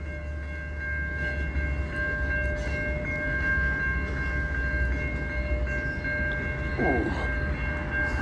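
A train rumbles past a city sidewalk with a continuous heavy roar and steady tonal whine of wheels and horn-like hum, loud and close throughout, while a walker gives a brief exclamation.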